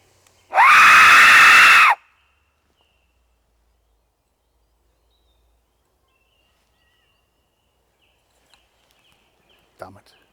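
One loud, sustained human scream rings out for over a second in dark woods at night on Cannock Chase, followed by long near-silence and a few faint rustles and thumps.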